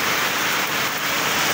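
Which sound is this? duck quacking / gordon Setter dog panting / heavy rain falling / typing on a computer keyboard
heavy rain falling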